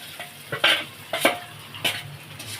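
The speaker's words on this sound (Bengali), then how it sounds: "এবার আমি এই গুঁড়ো গরম মশলাগুলো দিয়ে দিলাম তার সাথে আমি সোয়াবিনটাও দিয়ে দিলাম" Soybean chunks with ground garam masala being stirred in a pan for a vegetarian soybean keema with chana dal, a few distinct scraping stirs with a soft sizzle beneath, close and fairly quiet.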